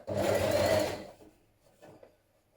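A sewing machine stitches a shirt sleeve in one fast, close whirring run lasting about a second, followed by a few faint clicks and handling noises.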